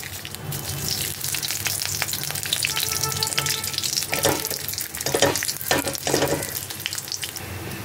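A bay leaf, a whole dried chili and panch phoron fry in about two spoons of hot oil in a kadai, a loud, close, continuous sizzle that swells into stronger bursts of spitting partway through.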